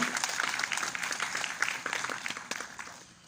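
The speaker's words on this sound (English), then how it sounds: "How about a one round of applause for them, please?" Audience applause at a film festival premiere at a red carpet cinema venue, a moderate crowd clapping steadily that gradually fades toward the end, heard at middle distance.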